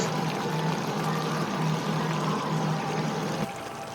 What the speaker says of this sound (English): so that is the sound of some good cooking food